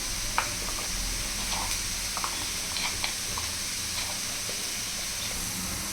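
Spice powders frying in a pan while preparing a momo chutney, a steady soft sizzle with faint stirring clicks throughout, close and fairly quiet with no talking.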